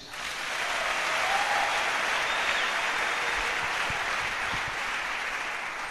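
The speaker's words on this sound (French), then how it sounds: "Acclamons Jésus." A church congregation breaks into sustained applause and acclamation for Jesus, a dense, even wash of many clapping hands that holds steady throughout, with faint crowd voices underneath.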